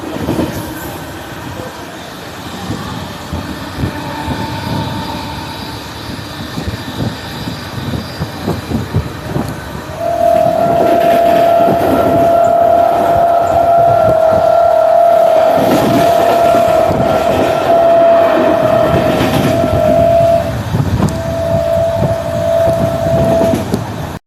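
A MEMU passenger train, number 64511, crosses the Ganga river bridge with a loud continuous rumble and rattle of wagons, and a sustained metallic wheel squeal comes in partway through.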